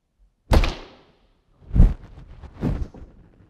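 A bow shoots an arrow at an indoor keynote event: one sharp, loud thunk, followed by two softer, duller thuds, with no talking.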